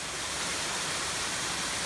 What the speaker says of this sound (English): Here we are coming up on our first little waterfall as the water trickles down over the rocks here